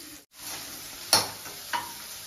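Chilli chicken pieces fry in hot oil in a pan, with a steady sizzle broken by two sharp, close scrapes of a spoon stirring the pan.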